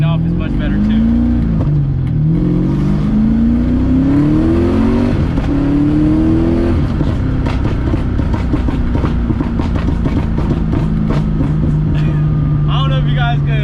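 An LS-swapped Lexus IS300 pulls hard, its V8 engine note rising through the revs, then backs off while the exhaust burbles and pops, loud and close with talk over it.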